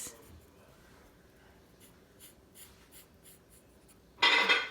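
A pen scratches short, rhythmic strokes across a pysanky egg, drawing a crisscross pattern as a run of faint scratches, ending in one sudden louder scrape.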